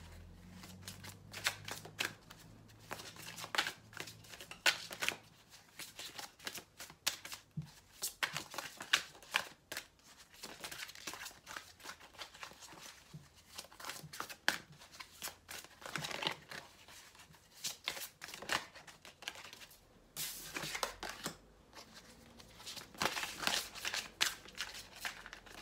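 Playing cards shuffled close up: repeated quick riffling and flicking bursts with short pauses between them, crisp and near, with no talk.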